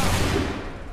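A musket volley rings out in a colonial battle in Assassin's Creed III, a loud, dense burst of many gunshots crackling together and then decaying, with no one speaking over it.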